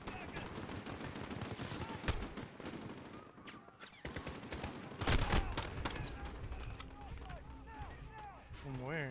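Dense gunfire from Call of Duty Modern Warfare, rapid automatic bursts and heavy volleys rattling almost nonstop, with a loud cluster midway and players talking over the shooting.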